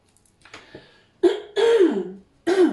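A person coughs several times in short, rough bursts, starting with a faint throat clear and ending with three louder, close coughs.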